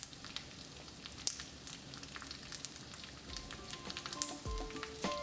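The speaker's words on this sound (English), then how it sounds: "continue stirring until the cream reduces and begins to stick to the pasta" Heavy whipping cream reduces in a pan with beef rotini, giving a soft, steady bubbling sizzle with faint scattered pops and a few light utensil clinks, quiet and close.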